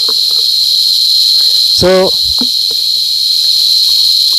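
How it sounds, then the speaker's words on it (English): Steady, loud high-pitched drone of male cicadas calling throughout, with a brief voice speaking a single word near the middle. "all the noise that comes out from here, which you can hear, are from the male cicadas"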